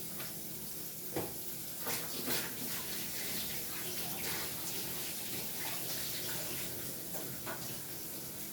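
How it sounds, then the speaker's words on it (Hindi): A pot lid being washed under a running kitchen tap, steady water splashing and trickling throughout with a few brief clatters, fairly close and alone. "ढक धोना पड़ेगा"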